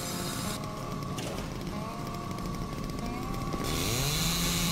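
A saw cutting through wood in the building game House Builder, a steady, loud mechanical buzz that runs throughout with shifting whines and a rising pitch near the end.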